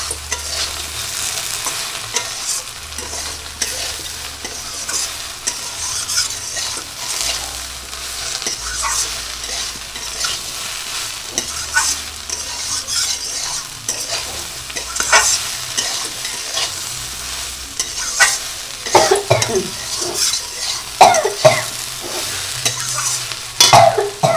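Soybean curry ingredients with dried red chillies and spices fry slowly in a pan, giving a steady sizzle with repeated scraping and stirring strokes that grow busier and louder toward the end.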